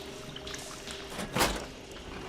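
Water leaks from damaged pipes in the video game Horizon Forbidden West, a faint trickling and pouring with a brief louder splash midway over a low ambient hum.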